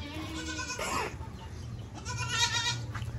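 Several goat bleats, loud and close, one wavering call near the start and another stretched cry later, over a steady low rumble of a small mini-zoo pen.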